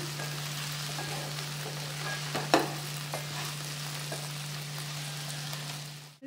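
Sliced okra (bendakaya) frying with masala in a pan gives a soft, continuous sizzle. A few light scrapes and taps of stirring come through, with one sharper clack near the middle, over a steady low hum.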